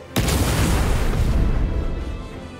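A special-attack explosion in One Piece Odyssey: one sudden loud boom that cuts in sharply, then a heavy, rumbling roar that slowly fades over about two seconds, standing alone with no voices.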